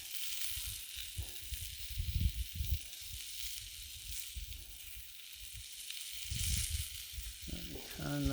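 Pork loin searing on a grill gives a steady broadband sizzle with a few low knocks and bumps, and brief speech-like sounds appear near the end.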